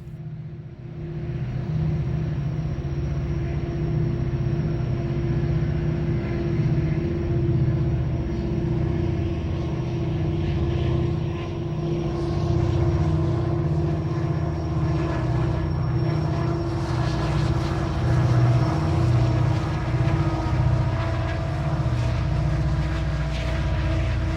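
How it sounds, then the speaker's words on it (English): Freight locomotives descend Price Canyon under dynamic braking, a deep steady throbbing rumble with a sustained hum that holds unbroken and fairly close throughout. "Listen to those locomotives throb as the dynamic brakes work to keep the train under control."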